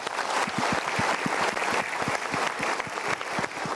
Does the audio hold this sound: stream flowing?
no